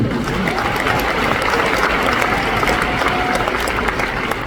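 A crowd at an Amway recognition event in Kuala Lumpur claps steadily and loudly in sustained applause from start to finish.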